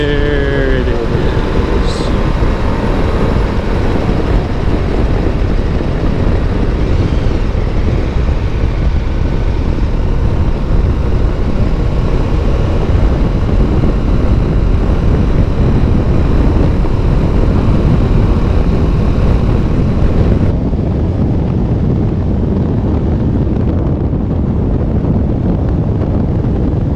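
A KTM 1290 Super Adventure S motorcycle rides along a road, its engine droning steadily under heavy wind buffeting across the microphone, with a voice speaking over the continuous rush.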